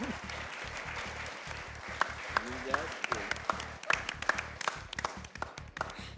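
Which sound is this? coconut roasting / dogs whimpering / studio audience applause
studio audience applause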